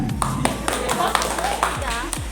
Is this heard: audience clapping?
yes